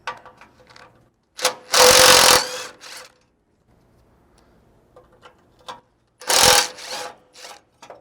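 A power tool works on the KDSS skid plate under a Lexus GX460, two loud whirring bursts of about a second each, between quieter clicks and metallic taps, close up.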